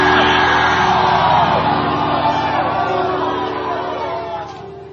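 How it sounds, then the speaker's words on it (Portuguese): A church congregation shouts and cheers loudly together, a sustained roar of many voices that slowly fades over a few seconds. "Grita, mas grita alto. Grita!"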